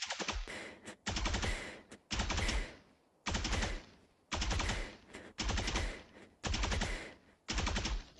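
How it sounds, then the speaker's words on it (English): Phantom rifle in Valorant firing seven short, loud bursts in a regular rhythm, each a rapid chatter of shots separated by brief silences, with no voices. "go across left to right and shoot 5 bullets with the Phantom or Vandal"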